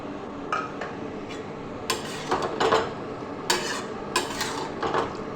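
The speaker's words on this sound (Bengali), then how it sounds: "এবারে আমি একটা ভালো করে ঢাকা দিয়ে দিচ্ছি" A cooking pot of cauliflower stems is handled and covered with a lid, with a few sharp metallic clatters and scrapes standing out over a low background hum, close and unaccompanied by talk.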